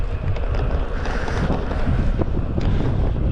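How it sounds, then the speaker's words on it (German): Strong, cold wind buffets the microphone on a bare, stony high plateau in Turkey, a continuous loud roaring rush with gusting swells and no pauses. "Der Wind ist so fies"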